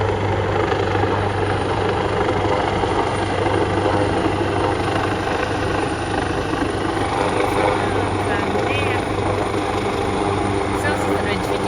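A helicopter herds cattle in Australia, its loud, constant rotor and engine drone dominating without a break, with a voice faintly beneath.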